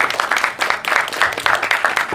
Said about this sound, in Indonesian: Boleh berikan tepuk tangan dong,